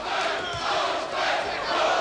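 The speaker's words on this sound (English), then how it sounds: "And now the chant from the crowd of Lopez." Boxing arena crowd chanting for Hector Lopez at the 1994 fight against Kostya Tszyu, a loud rhythmic mass of voices swelling and dipping continuously.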